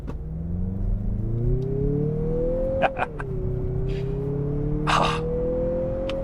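A 2023 Mazda CX-50 with a 2.5-liter turbo engine accelerates from a stop sign. The engine note climbs steadily, dips briefly at a gear change partway through, then rises again, heard close and clear from inside the cabin.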